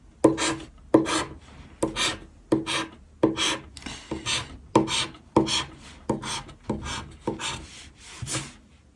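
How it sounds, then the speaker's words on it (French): A scratch-card lottery ticket being scratched in a repeated series of short, rasping scrapes, about a dozen strokes in a steady rhythm, close and alone without talk. "mais ça fait déjà 10 tickets qu'on gratte"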